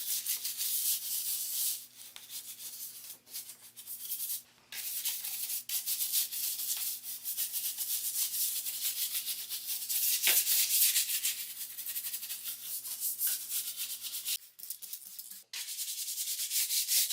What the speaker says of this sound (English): I used a dollar store brush to get into all the nooks, crannies, and crevices